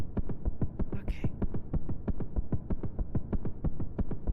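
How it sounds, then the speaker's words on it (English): A loud, steady heartbeat thumps in a fast, regular rhythm throughout a Silksong Act 3 boss fight against Karmalita, with a brief higher-pitched game sound partway through. "that's my heartbeat"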